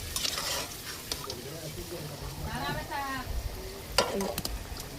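Fried potatoes are scooped out of hot oil, a steady sizzle under scraping and clattering of utensils on the pan, with a person talking throughout and a louder clink near the end.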